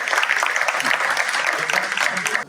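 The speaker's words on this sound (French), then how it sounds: "Applaudis le camarade après." A gathering of comrades, former FESCI members living in Europe, applauds a speaker with dense, steady clapping that holds evenly for a couple of seconds before cutting off.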